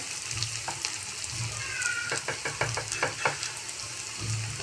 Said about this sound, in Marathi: कांदा आता परतलाय, थोडासा गुलाबी झालाय। त्याच्यामध्ये आता मी मसाला टाकते